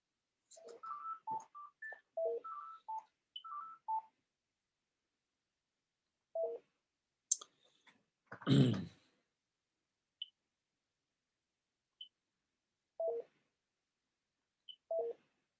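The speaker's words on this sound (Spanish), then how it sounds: "tengo que apagar mi teléfono" Mobile phone being switched off during a workshop talk: a quick run of button beeps, then a clatter, followed by a few isolated short beeps spaced apart in a quiet room.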